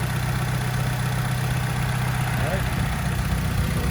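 An Alfa Romeo 159 with the 2.2 JTS petrol engine, just restarted after a flat battery, idles with a steady, even drone and constant low hum, no pauses.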